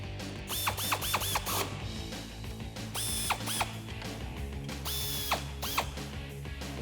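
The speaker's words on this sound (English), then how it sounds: "So reinstall those 3 screws and then we'll tighten them up with an 8mm." A ratchet with an 8mm socket tightens screws on a Jeep Wrangler JL during a suspension lift install, giving several short runs of rapid pawl clicks, close and clear over a low steady hum.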